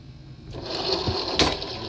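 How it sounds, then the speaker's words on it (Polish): A close mechanical whirring hum of a scrapyard rotary ironing press's electric motor rises and keeps running, with a brief clunk partway through. "Silnik się kręci."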